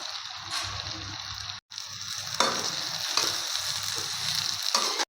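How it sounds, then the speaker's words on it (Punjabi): Eggplant pieces frying in a pan, a steady close sizzle with stirring scrapes throughout, one brief gap near the start and louder crackling bursts later. "ਹਲਕਾ ਜਿਹਾ ਆਪਾਂ 2-3 ਮਿੰਟ ਵਾਸਤੇ ਆਪਾਂ ਇਹਨਾਂ ਨੂੰ ਫਰਾਈ ਕਰਨਾ"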